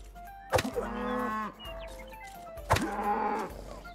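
A cow in the video game Rustler gives two drawn-out moos a couple of seconds apart, clear and fairly close, with faint background sounds between them.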